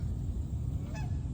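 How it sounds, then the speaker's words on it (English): Canada geese fly in during autumn, giving one brief honking call partway through over a quiet outdoor background hum. "The geese are coming back, so you know it's fall. All the Canada geese are coming in."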